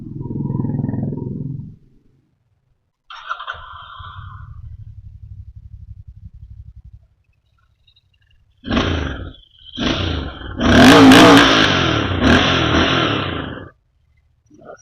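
A Royal Enfield GT 650 motorcycle engine idles in neutral, then revs in a few sharp bursts, with a loud, throaty climb near the end; no talk.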